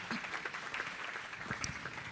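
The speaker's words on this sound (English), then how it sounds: "You can give that a big round of applause" Dense applause from a gala fundraiser audience in a large room, a steady wash of many hands clapping at moderate distance throughout.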